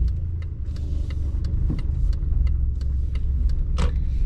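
A car pulls out of a car park at the start of a UK driving test route: a steady close engine hum with low road rumble and light ticking, rising slightly as it moves off, no talk.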